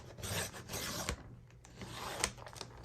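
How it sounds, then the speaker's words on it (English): Fabric paper being trimmed for a handmade book cover: repeated raspy cutting and rubbing strokes with short sharp snips, close and fairly loud, no voices. "So I'm going to trim this one."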